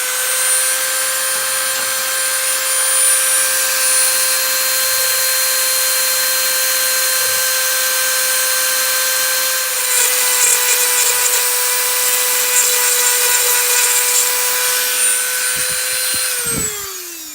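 A power tool runs with a steady high-pitched whine for about sixteen seconds while cutting away a homemade cutaway lock, loud and close, then spins down at the end.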